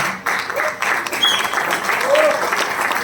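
An audience at a business event in a hotel banquet hall in Ranchi claps steadily and fairly loudly for a team leader, with scattered voices and a short call rising over the applause.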